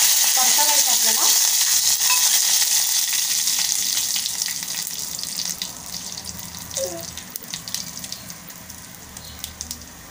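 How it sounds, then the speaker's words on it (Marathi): Curry leaves and crushed garlic sputter in hot oil for Malvani tomato saar, a loud, close crackling sizzle that starts strong and gradually settles into softer popping. "कढीपत्त्याची पानं, परतावायचं आपल्याला"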